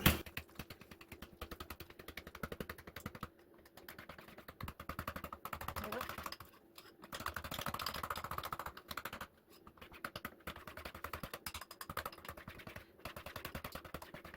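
Salt and pepper whisked into a honey Dijon dipping sauce, a steady scratchy tapping of whisk against bowl that keeps up almost continuously with brief pauses.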